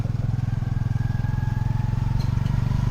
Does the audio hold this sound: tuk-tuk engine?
yes